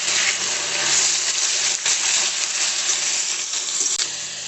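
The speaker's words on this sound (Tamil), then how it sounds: "இதை ஃப்ரை பண்ணிடலாம் எண்ணெயிலேயே," Brinjal pieces frying in oil without water make a steady, close, dense hiss and sizzle that carries through the whole stretch with only slight dips, no voice over it.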